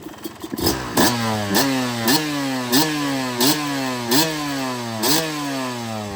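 Yamaha YZ250 two-stroke motocross bike engine idling close by, with sharp periodic blips of revving and a rattly clutch noise repeating roughly every half second.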